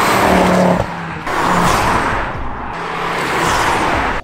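A Ford Focus ST drives past in a road driving shot, its engine roaring loudly in surging waves with a brief dip in the middle, and no talk over it.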